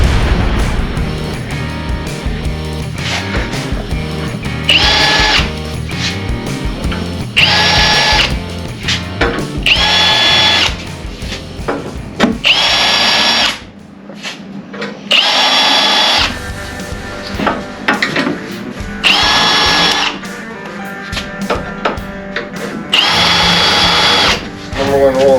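A power drill boring holes while a TNT Customs Guardian rock slider is installed on a Jeep Wrangler Rubicon LJ, the motor whining loudly in repeated bursts of a second or two with short pauses and people talking now and then.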